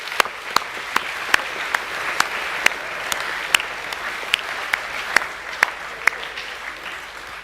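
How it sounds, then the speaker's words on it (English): A school academic assembly applauding award winners: sparse, scattered clapping with a few distinct sharp claps standing out over a thin background of hands, moderately loud and without talk. "If we can just give one last round of applause"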